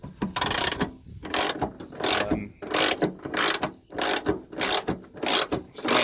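A ratchet wrench turning a 10mm socket clicks in quick repeated bursts, about ten sharp pawl-ratcheting runs spaced evenly, close and loud with no talking.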